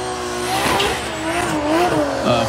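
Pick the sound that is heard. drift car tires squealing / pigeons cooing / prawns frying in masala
drift car tires squealing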